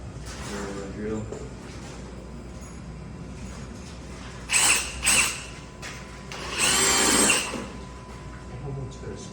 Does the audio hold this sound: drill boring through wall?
yes